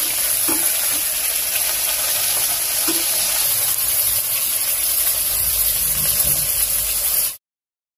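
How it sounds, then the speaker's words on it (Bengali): Cut potatoes and green banana frying in hot oil with whole cumin, a continuous close sizzle and hiss with occasional stirring clinks, cutting off abruptly near the end. "এবার কেটে রাখা কাঁচকলা আর আলু একসঙ্গে সুন্দর করে ভেজে নেব।"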